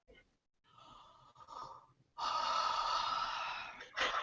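A person yawning aloud, starting with a slow intake of breath and rising into a long, loud open-mouthed exhale near the listener, with a brief extra breath at the end.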